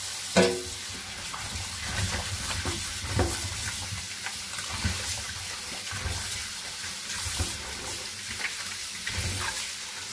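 Cold tap water runs steadily into a sink as freshly peeled potatoes or vegetables are rinsed for an oven-roasted rabbit dish, with splashing, clinking and handling bumps over the constant flow.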